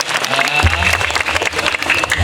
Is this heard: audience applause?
yes